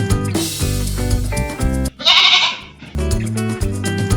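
One short, wavering goat bleat rises close by at a rural home, set between stretches of loud music that stop while the animal calls.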